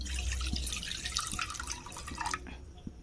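Water splashing and trickling into a pan on a lit gas stove, a steady close pour lasting a couple of seconds before cutting off, with a low burner rumble underneath.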